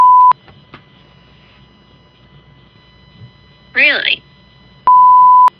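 Short, steady censorship bleep tones cut in at the start and end of a dialogue scene, loud and flat, with a brief spoken exclamation between them.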